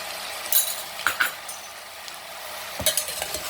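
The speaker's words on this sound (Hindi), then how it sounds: "इसे अच्छे से चला लेंगे।" Potatoes with fasting salt and black pepper being stirred in a pan, a faint sizzle underneath with scattered scraping clinks of the spoon, close up and without speech.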